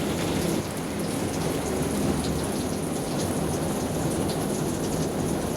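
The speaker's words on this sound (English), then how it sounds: "The rain is falling on the plexiglass roof of the veranda." Rain drumming steadily on a plexiglass veranda roof, a dense, loud, continuous patter of drops of varied sizes with no voices.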